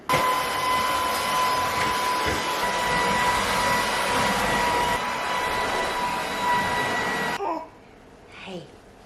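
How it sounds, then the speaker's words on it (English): A vacuum cleaner runs over a household floor, a loud continuous whining drone with a steady high tone for about seven seconds, then switches off and leaves a quiet room with faint sounds. "Now I'm gonna give this level a quick vacuum"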